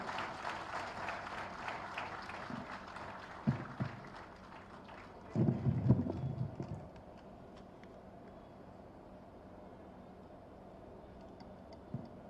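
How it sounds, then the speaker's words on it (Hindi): Audience applause welcoming Chief Minister Yogi Adityanath at a hospital inauguration ceremony in Agra, a faint, distant patter of clapping with a brief louder burst midway, then fading into quiet room noise. "एक बार जोरदार तालियां बजाकर आइए उनका स्वागत करते हैं"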